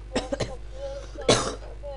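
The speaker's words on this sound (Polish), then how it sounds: "Sorry za kaszel, ale coś chory jestem." A sick player coughs near the microphone during a Minecraft session: two quick sharp coughs, then a heavier cough with throat clearing a second later, over a faint steady background hum.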